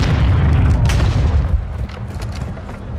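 A grenade goes off in Call of Duty: Modern Warfare (2022), a deep, loud boom whose low rumble rolls on for a few seconds with fainter crackles layered over it.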